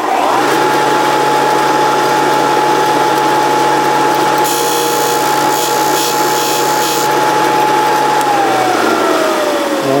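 Engine valve from a 1949 Clinton engine spun against a grinding disc, a constant loud motor whine with a steady gritty grinding layer that briefly intensifies mid-way, then the motor pitch drops at the end.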